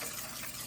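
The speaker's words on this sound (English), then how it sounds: "I'm going to very carefully just rinse out my can, add a little bit more water." Water rinsed from a can pours steadily into a pan while tomato gravy is made in a home kitchen, making a brief continuous splashing gush.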